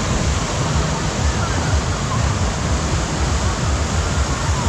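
Sea waves wash onto the beach at Mandarmani in a steady, close, continuous rush of surf that stays loud and even throughout, with no clear breaks between waves.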